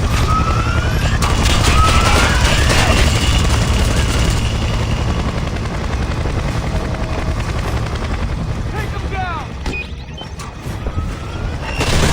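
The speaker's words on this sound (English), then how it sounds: "I'm taking fire from that chopper." A helicopter fires on the player in the Splinter Cell Conviction video game, with a loud, continuous rotor and engine roar and bursts of gunfire throughout, joined by siren-like tones and sweeping effects.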